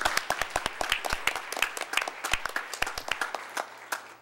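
A small group of commissioners at a Tallahassee city commission meeting gives a round of applause, with dense, fairly close clapping that holds steady for a few seconds and then thins out.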